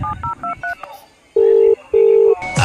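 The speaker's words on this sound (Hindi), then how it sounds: "अभी कमांडो को फोन करता हूँ।" Touch-tone telephone keypad being dialed in a Hindi film scene: a quick run of about five short dual-tone beeps, followed by two long steady ringback tones with a pause between them, loud and close.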